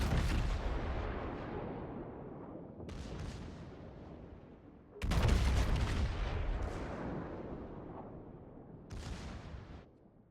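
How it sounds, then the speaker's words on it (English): Naval gunfire from a Bismarck battleship in World of Warships: three heavy booming salvos, each a sudden loud blast rolling off into a long fading rumble, with no voices. "Art is spreading his shells out there"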